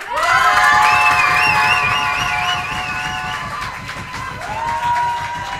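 A studio audience at a French TV show applauds and cheers a guest, with steady, dense clapping and shrill sustained whistles filling the room loudly for several seconds.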